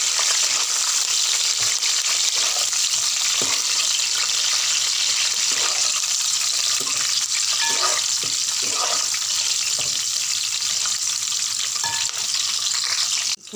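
Four dried red chillies and six or seven green chillies fry in oil in a pan for paneer masala curry, with a loud, constant sizzle and occasional stirring scrapes.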